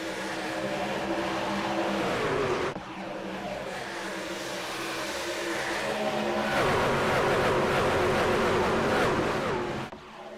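Race trucks roar around Michigan's oval in the iRacing video game, a pack of engines droning and swelling loudly together, shifting pitch as they pass, with no voices heard.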